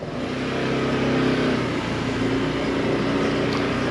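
A Honda PCX125 scooter pulls away on a ride, its engine a steady mid-pitched hum that rises slightly as it gets going, heard close and alone with no voices.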